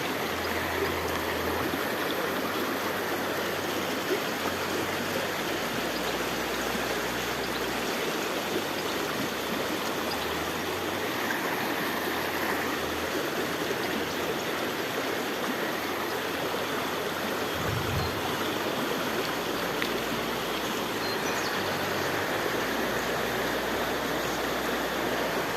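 A small river stream runs between two ponds, giving an even, unbroken rushing and babbling wash of water that stays close and steady for the whole stretch, with no voices over it.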